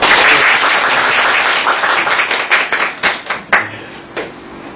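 An audience claps to welcome a lecturer at a talk, dense applause that thins into scattered individual claps toward the end.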